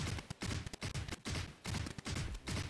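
Phantom rifle fire in Valorant, delivered as short rapid bursts separated by brief pauses in a stop-and-shoot rhythm, each burst loud and close with sharp repeated cracks.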